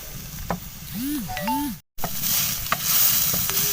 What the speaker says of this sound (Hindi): इनको जस्ट हमने 2 मिनट के लिए फ्राई करना है मीडियम फ्लेम पर